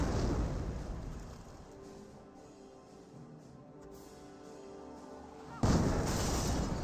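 Artillery shells pound an anti-tank gun in Company of Heroes, a distant, rumbling barrage that rolls on steadily, then a loud, sudden blast erupts near the end.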